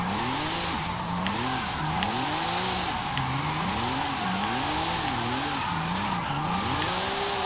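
A 1995 Porsche 911 Gunther Werks Carrera 2 drifts with repeated wavering tire squeals that rise and fall in a steady rhythm. The engine roars loudly and continuously beneath them.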